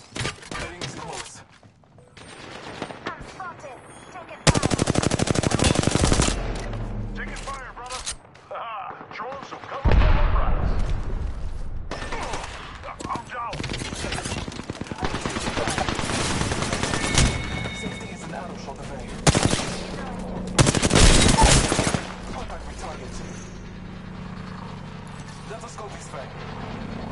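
Gunfire in the battle royale shooter Apex Legends, with long, dense bursts of loud shots and rattling fire that start and stop repeatedly, mixed with other game noise and a voice talking over it.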